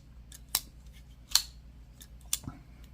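A Vosteed Raccoon button lock knife is flicked open by its thumb stud three times in a row. Each flick gives a sharp, close metallic snap, and a short quiet gap separates the snaps.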